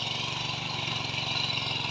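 A ploughing machine works a banana plantation, its engine running in a steady, close, continuous chug with a fast low pulse and no gaps.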